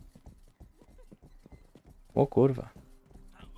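Horse hooves clip-clop in the Rustler video game, a steady close rhythmic trot of hoofbeats, while someone speaks briefly and loudly over the middle.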